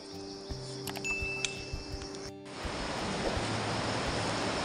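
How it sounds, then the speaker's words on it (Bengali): A mountain river rushes below a hanging bridge on the Pindari Glacier trek between Khati and Dwali, a steady broadband roar that swells loud and close after a quieter opening. "নদীর একেবারে সামনে চলে এসেছি আমরা"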